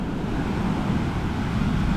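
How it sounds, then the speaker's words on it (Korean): Strong ocean surf breaks on a beach on Koh Phangan, a loud continuous roar of churning water mixed with wind buffeting the microphone. "오늘은 파도가 많이 칩니다."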